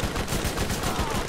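A deployed turret in the video game Borderlands fires a steady stream of rapid shots. The gunfire is loud and close, and it keeps going as dense, continuous bursts.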